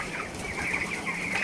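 Three-week-old chickens cluck steadily on a poultry farm, a dense, close flock chorus with overlapping calls and faint wing flutters throughout.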